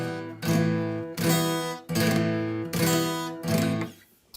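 Guitar chords strummed at 75 bpm during practice, sounding rushed and falling apart: four loud strummed chords with brief gaps between them, close and alone, the last one fading out.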